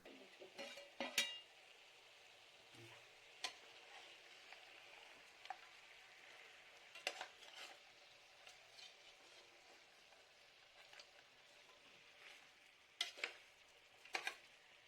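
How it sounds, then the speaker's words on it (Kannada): Chicken pieces sauté in oil with a faint, soft sizzle, broken by occasional sharp clinks and scrapes of a spoon stirring in the pan, quiet and without talk. "ಇವನ್ನೆಲ್ಲ ಸೇರಿಸಿ ಬಾಡಿಸ್ಕೊಳ್ಳೋಣ."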